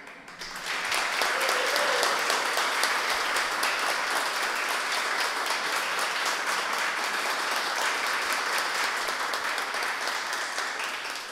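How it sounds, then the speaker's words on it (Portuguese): An audience at a wind music festival concert in the Palácio Tiradentes breaks into sustained applause, loud and dense, holding steady for about ten seconds before easing slightly. "Se vocês aplaudirem com intensidade, pode ser que eles queiram fazer bis"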